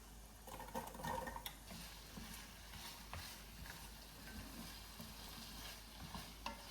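Potatoes seasoned with salt and pepper tumble into a frying pan with onions, giving a faint, steady sizzle and light scraping and stirring sounds, heard up close with no talking.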